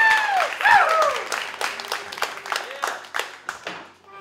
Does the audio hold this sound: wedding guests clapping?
yes